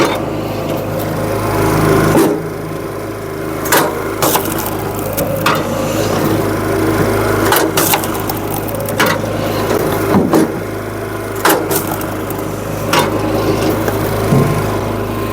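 A SuperSplit kinetic wood splitter works through logs outdoors under a constant engine drone. Several sharp cracking and clunking impacts of wood being split stand out near and loud, with no talking.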